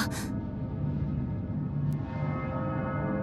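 A single bell rings out at the start in the video game Persona 3 Reload, a bright struck tone whose resonance lingers and fades beneath a steady low background hum.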